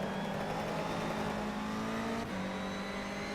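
Race car engine of an Evo in the rFactor 2 sim, NGTC touring car racing, droning steadily at high revs with a brief shift dip near the end, loud and close throughout.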